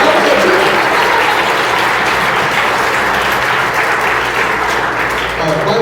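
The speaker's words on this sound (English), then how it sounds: "Give Joe a big round of applause." A large audience applauds loudly and continuously, a dense wash of clapping that holds steady from start to finish.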